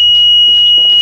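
A house alarm goes off just after being set, giving a loud, steady high-pitched electronic tone that holds without a break for the whole second, with no voices.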